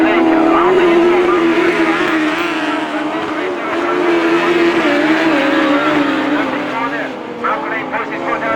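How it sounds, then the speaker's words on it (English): Autograss race cars, including a Cambridge car, accelerate on a dirt oval at St Neots, a continuous loud engine roar with race commentary over it throughout. "Malcolm Lane puts his foot down there and he gets through in the Cambridge 26"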